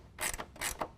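A 9/16 wrench snugging a bolt on a tonneau cover clamp on a 2017 Nissan Titan, heard as two or three quick, faint ratcheting clicks close by with no talking.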